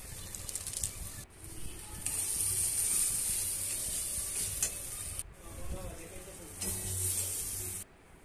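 Fish masala and Kashmiri chilli with turmeric being sautéed in a pan for a fish curry, a loud continuous hiss of frying with spatula scrapes and stirring, close up, briefly interrupted, with faint background noise.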